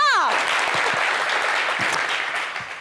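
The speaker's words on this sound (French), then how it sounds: "On applaudit pour ça!" A studio audience on a television talk show applauds loudly and continuously, the clapping steady throughout after a brief voice fades out at the start.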